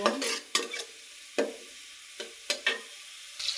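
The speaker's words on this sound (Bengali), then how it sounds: "আমি পেঁয়াজগুলো এখন ভেজে নেব।" Chopped onions with green chili and garlic frying in oil in a pot, soft sizzling broken by several distinct stirring scrapes at irregular intervals.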